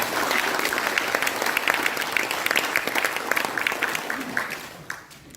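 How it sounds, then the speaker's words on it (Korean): An audience applauds at a public report meeting, sustained clapping that holds steady and then thins out and fades near the end. "박수로 해주시죠"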